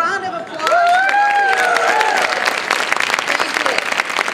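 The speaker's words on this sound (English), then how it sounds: "Can you give them a big round of applause?" Audience at a science center conference live demo breaking into applause and cheering after a voice speaks, the clapping swelling quickly and staying loud and dense to the end.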